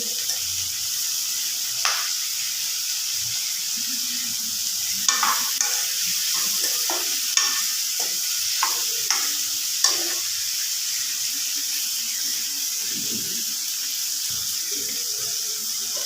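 Leafy greens sizzle in hot oil in a pan with a steady crackling hiss, punctuated by sharp scraping taps as they are stirred.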